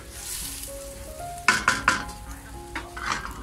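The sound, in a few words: stir-frying egg and shrimp for fried rice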